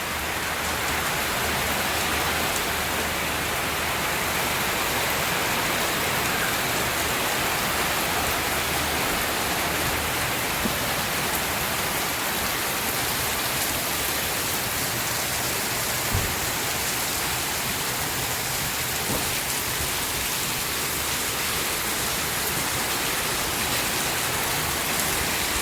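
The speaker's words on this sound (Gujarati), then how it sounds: "આવું જ થાય છે, થોડોક પડે છે ને પછી રહી જાય છે વરસાદ." Steady rain falls outdoors, a dense, even hiss of drops on surfaces that holds at a constant level throughout with no voices.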